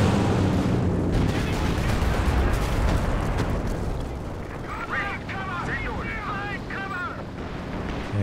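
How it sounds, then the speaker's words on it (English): A Katyusha rocket artillery barrage in Company of Heroes 2 battle, dense rumbling explosions and rushing rocket noise filling the scene loudly, followed by whistling, warbling sounds over continued booming. "There goes the Katyusha getting counter barraged by the walking Stukas"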